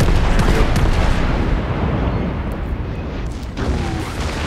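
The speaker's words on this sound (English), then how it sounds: "Fire broadside into him." A battleship's guns fire a broadside in a World of Warships naval battle, a dense roaring boom that rumbles through the whole stretch and fades slightly, with a smaller blast near the end.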